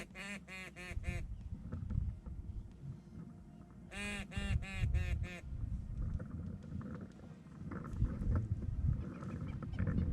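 A duck flies over a Florida public marsh while hunters sound duck calls at it. Two clusters of loud, nasal, rapid honking quacks break over a low, rumbling outdoor background.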